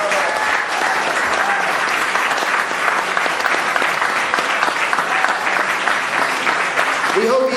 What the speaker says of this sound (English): please give a round of applause to each of these candidates